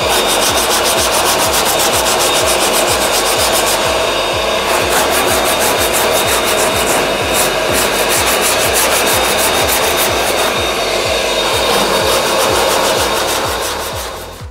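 Steady, loud hand sanding of hardened body filler on a 1971 Camaro, a continuous rhythmic rasping stroke repeated evenly back and forth with no talk.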